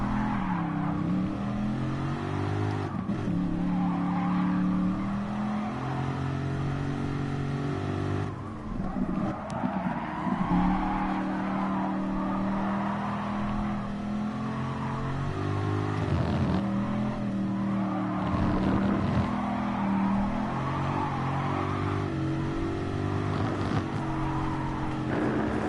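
Race car engines in Gran Turismo Sport, a steady loud roar with repeated gear-shift rises and drops in pitch as the car accelerates and brakes, continuous and close throughout.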